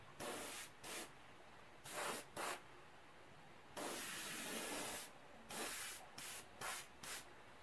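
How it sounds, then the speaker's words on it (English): Paint is spray painted onto whitetail deer antlers in short, close hissing bursts of varied length, about a dozen of them, separated by quiet gaps, with one longer spray in the middle. "I can see the mist of paint coming out as I go now."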